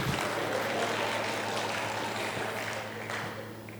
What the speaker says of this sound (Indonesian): Oh gitu ya, tepuk tangannya.